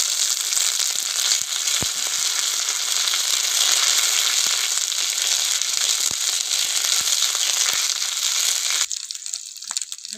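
Whole cumin and slit green chillies crackle loudly in hot tempering oil, a dense, steady sizzle with sharp pops throughout, cutting off abruptly to faint, sparse crackles near the end.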